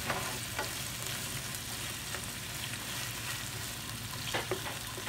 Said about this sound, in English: we're gonna get these onions all nice and caramelized